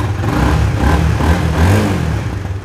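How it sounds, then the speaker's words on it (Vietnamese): A 2016 motorbike engine runs loudly and steadily close by, its revs swelling and easing in a couple of throttle blips over a continuous mechanical drone. "nổ máy cái cho anh em nghe chơi nha"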